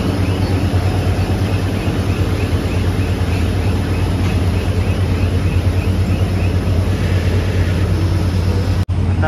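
Airplanes at an airport, seen from an airport bus before a first flight, give a loud, steady low engine drone with a constant hum filling the whole stretch, ending in a brief abrupt click.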